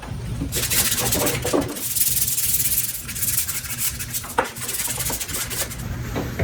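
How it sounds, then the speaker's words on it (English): Wooden drink coasters being sanded by hand, a steady close scratchy rubbing in long strokes with brief pauses between passes. "so now we're going to go ahead and hand sand"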